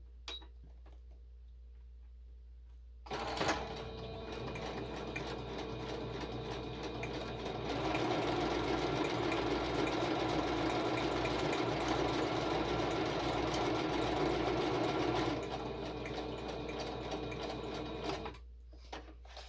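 A sewing machine with gray thread stitches a mixed-media journal card in one continuous run of fast, even mechanical whirring, close and loud, starting after a quiet pause and stopping abruptly near the end.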